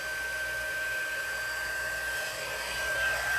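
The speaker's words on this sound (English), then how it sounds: "My heat tool, I'm going to turn it on." Heat tool switched on and blowing, giving a steady, close airflow hiss and motor whine that holds evenly throughout.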